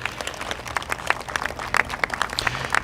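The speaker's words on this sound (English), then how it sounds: "Let's have another big round of applause for President David Chartrand." Audience applause at a public announcement event honoring a Métis leader, President David Chartrand: steady, moderately distant clapping from a crowd, sustained for a few seconds with no voices over it.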